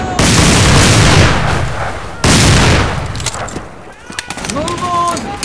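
Musket volleys crack out in the Battlegrounds 1.2.1 line battle game, two big massed fusillades about two seconds apart, each rolling off into echo, followed by scattered shots and shouted orders.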